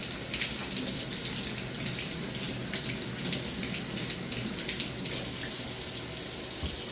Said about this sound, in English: while the oven's preheating, I'm going to first wash these potatoes, of course